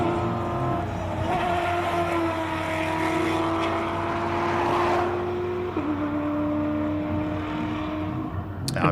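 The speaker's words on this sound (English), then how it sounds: "just listen to these monster rally raid vehicles" Powerful rally raid vehicles at a hill climb race, engines roaring loud and close with rising and falling pitch as one races past, the note dropping sharply when it gears or goes by.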